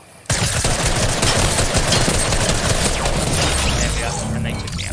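Loud, dense gunfire from the video game Fortnite erupts suddenly and continues as a sustained rattling barrage with booms and mechanical clatter underneath.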